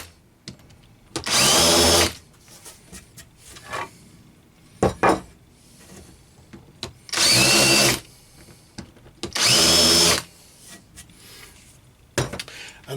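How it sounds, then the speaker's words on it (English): A power drill with a countersink bit whirs loudly in three short bursts, countersinking holes, separated by quieter clicks and handling knocks. "I've fitted a countersink bit to the drill now, so I'm just going to countersink the tops of these holes"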